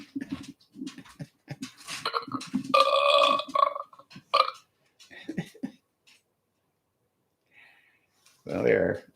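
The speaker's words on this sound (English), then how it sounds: "I also belched in your face." A loud, close belch directly into a microphone during a comedy talk show, a single rough burst near the end after a stretch of people talking.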